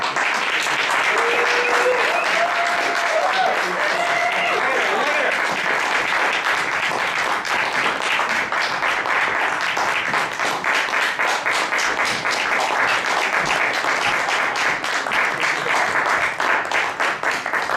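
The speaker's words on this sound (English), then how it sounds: "please give a big round of applause then for your cast for the show" Sustained audience applause and clapping at a live soap opera stage show, dense and steady throughout, with some crowd noise and a few faint whistle-like tones early on.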